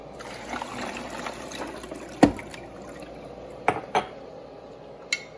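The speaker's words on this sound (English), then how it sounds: "When you pour water into an ice machine," Water trickles and splashes softly into an ice machine, punctuated by a few sharp clinks and knocks of plastic or ice.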